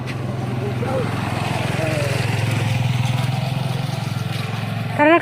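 A motorcycle engine runs with a steady, close, droning idle that continues throughout, with voices heard over it and a brief louder burst near the end.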